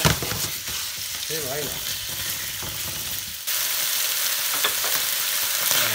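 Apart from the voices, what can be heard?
pork meat frying on high heat in a pan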